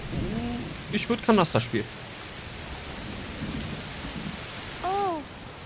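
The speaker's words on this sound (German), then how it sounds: "Oh, es regnet ganz schön doll." Steady rain and rumbling thunder fill a scene in the video game A Plague Tale: Requiem, a constant wash underneath short bursts of people talking in German.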